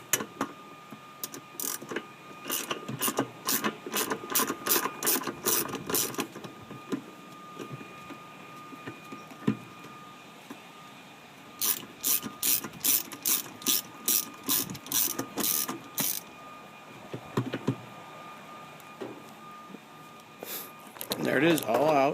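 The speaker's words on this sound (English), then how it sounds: "I'm going to use a ratchet with mine." A hand ratchet turning out a bolt on a Maytag washer, rapid clicking strokes in two long runs separated by a pause, close and loud, with a person speaking briefly near the end.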